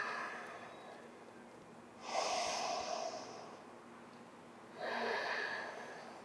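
Two slow, audible breaths during a yoga stretch, each a soft airy exhale through the nose lasting about a second, close and quiet with pauses between.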